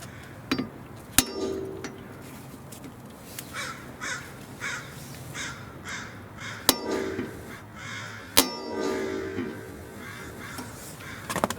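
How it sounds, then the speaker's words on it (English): Sharp metallic hammer blows strike a hand impact tool set on a rusted, stuck brake rotor screw, several isolated loud cracks spaced seconds apart with quieter clinks and outdoor ambience between. "the way it works is you hit it with a hammer and it will unscrew"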